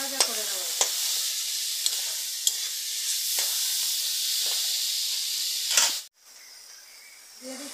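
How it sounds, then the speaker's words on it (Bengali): Prawns with salt and turmeric sizzle steadily in a hot pan for prawn jhal, a loud continuous fry broken by a few sharp stirring clicks, then a brief cutoff near the end before the sizzle resumes more quietly. "এটা ভালো করে ভাজা ভাজা করে নেব"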